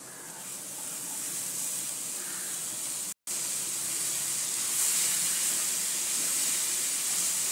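Fresh spinach hitting hot fried masala in a pan for dal palak, a steady close hiss of steam and sizzle that briefly cuts out and then continues evenly, with no voices.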